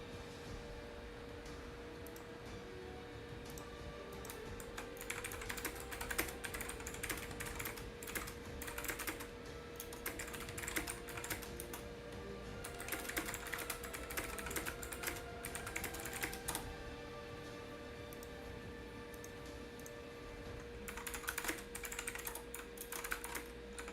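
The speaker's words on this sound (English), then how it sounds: "You can hear my keyboard clicking so much" Computer keyboard clacking as someone types during an online gaming match, with quick bursts of keystrokes broken by short pauses, close and fairly quiet over a faint steady hum.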